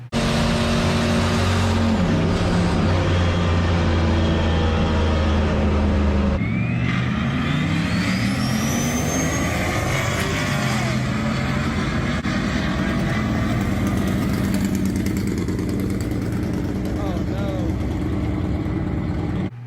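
A turbocharged, roughly 500 hp Volkswagen Beetle engine, damaged by overboosting, revs hard and loud, pitch climbing and dropping through gear changes, with turbo whine and wind roar up close.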